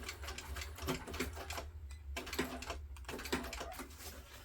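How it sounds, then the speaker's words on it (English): A sewing machine back-stitches the short end of a backpack grab handle with a dense, rapid stream of clicking stitches that is fairly quiet and close, with a steady low hum underneath. "I'm sewing from one of the short ends of the grab handle. I'm going to back stitch."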